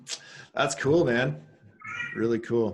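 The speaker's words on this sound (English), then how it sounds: "That's a cat." A cat meows a couple of times close by, with someone talking over and between the calls.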